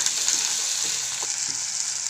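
Tomato pieces fry with ginger garlic paste and turmeric for an egg curry, giving a loud, continuous close-up sizzle with faint occasional stirring scrapes, and nobody talking.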